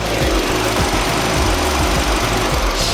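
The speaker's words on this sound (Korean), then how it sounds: "영상으로 엔진 소음 한번 담아보도록 하겠습니다" A 2015 gasoline car idles with its hood open, a steady, smooth, close engine hum with a low rhythmic throb and no talking over it.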